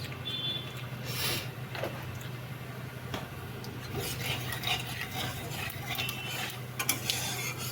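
Cumin seeds dropped into hot oil and stirred for poha, giving a quiet, steady sizzle with light scraping and ticking of the spoon against the pan, close by and with no talking.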